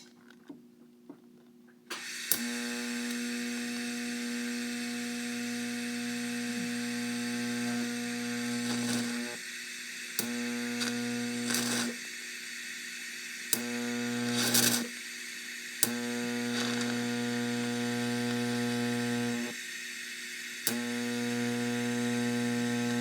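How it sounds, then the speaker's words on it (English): An electrical welder buzzes steadily on thick steel while rosette welds are laid on extreme-duty lower 4-link arms for a Nova chassis. Several separate runs of the hum are broken by short quiet gaps and a few sharp crackles. "I can't remember the last time I've rosette welded anything quite this thick."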